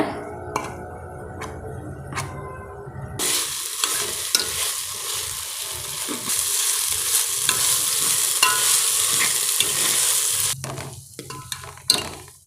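Ginger garlic paste frying with softened onions in a pan for a prawn and plantain gravy, a steady close sizzle that swells louder midway, with scraping stirs and a few sharp utensil clinks.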